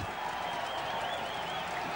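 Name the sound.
rugby league crowd cheering and applauding win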